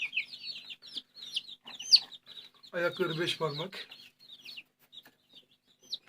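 Chocolate-coloured İsmeç chicks peep in short, high, repeated chirps, fairly close, while someone briefly speaks Turkish in the middle.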